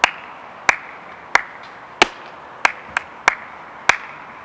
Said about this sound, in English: to make two claps together